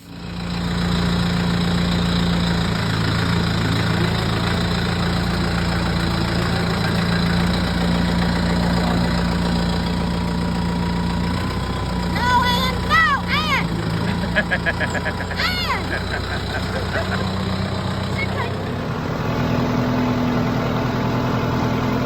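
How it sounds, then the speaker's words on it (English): A tractor (a 5040) runs steadily with a 6-foot King Cutter tiller, a continuous close engine drone with mechanical rattle throughout, joined midway by bird-like chirps and whirring. "So we give the tiller a little exercise."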